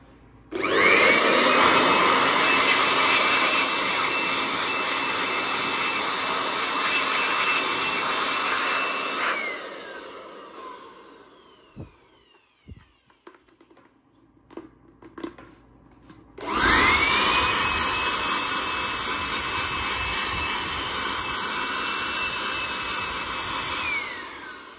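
A Hukan HK-800EB 800W handheld blower vacuum roars close up at full power for about nine seconds, winds down, then after a pause with faint clicks and handling it starts again with a rising whine and runs steadily.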